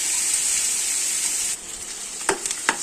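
Onions frying in a pan for a mutton curry: a bright, steady sizzle that eases after a moment, then a few quick stirring clinks and scrapes in the final second.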